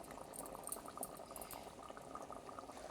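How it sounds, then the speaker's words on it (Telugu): Fish curry simmering in a pot with ginger and shallot paste added, producing a faint, steady bubbling and fizzing broth with soft pops throughout and no voices. "కూర ఇలా ఉడుకుతుంది"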